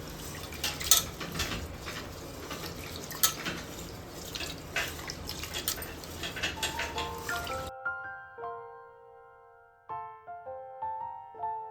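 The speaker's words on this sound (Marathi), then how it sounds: "बिर्याणी बासमती राईस घेतलेला आहे, तो आपण स्वच्छ 2 ते 3 वेळा धुवून घेऊया" Basmati rice for prawn biryani is washed in water, with steady splashing and trickling for about eight seconds before the water sounds stop and a melodic tune takes over.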